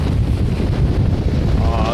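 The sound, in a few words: wind on a sailboat at sea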